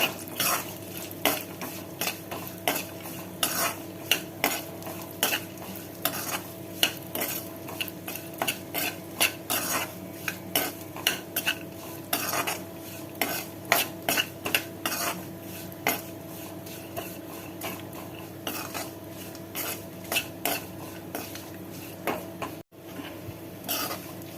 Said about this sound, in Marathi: आता या तुपामध्येच आपण ड्रायफ्रूट टाकूया हे ड्रायफ्रूट चांगले फ्राय करून घ्यायचे